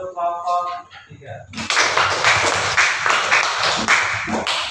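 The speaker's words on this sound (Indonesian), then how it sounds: "Kasih tepuk tangan untuk kelompok 3." A class of students claps for group 3 in a classroom, a burst of dense, steady hand clapping that starts after a brief spoken opening and carries on loud and close to the end, with voices mixed in.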